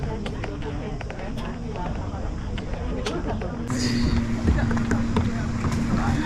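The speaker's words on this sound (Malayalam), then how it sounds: "ഇവിടെ ഫസ്റ്റ് നമ്മൾ സ്പീഡ് ബോട്ടിംഗ് ആണ്, ബോട്ട് റൈഡിംഗ് ആണ് എക്സ്പീരിയൻസ് ചെയ്യാൻ പോകുന്നത്" Speedboat ride during an island-hopping tour off Langkawi, a continuous loud engine drone with wind buffeting and water rushing, the motor note rising and steadying partway through.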